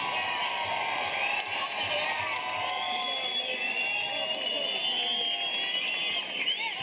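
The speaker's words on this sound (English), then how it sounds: "let's have a great round of applause for both brawlers" A crowd at a bare knuckle fighting event in the Cheyenne Ice and Event Center cheers and applauds over a continuous arena din, with scattered whoops and shouts.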